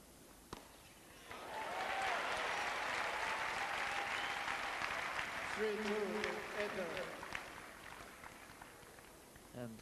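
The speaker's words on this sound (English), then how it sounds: "the crowd beginning to be heard now and making themselves known" A tennis crowd at a Henman versus Edberg match in 1996 breaks into sustained, fairly distant applause that holds steady for most of the span, while a commentator's voice is briefly heard partway through.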